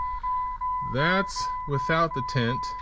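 A Jeep WJ key-in-ignition warning chime pings steadily and faintly in the background while someone talks over it.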